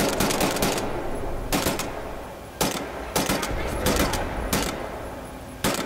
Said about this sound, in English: He had a big fucking turret.